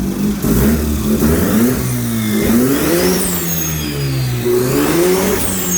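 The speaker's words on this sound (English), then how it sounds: "Does it rev now?" A 12A turbo rotary engine in a Datsun 1200 revs up and down repeatedly, loud and close, its pitch rising and falling in steady swells with no talk over it.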